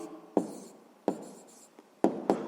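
A pen writes down an answer to a sixth-grade maths problem on paper, three or four short close scratchy strokes separated by brief pauses, with no talking.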